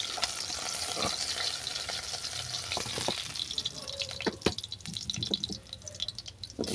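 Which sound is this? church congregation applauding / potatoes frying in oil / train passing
potatoes frying in oil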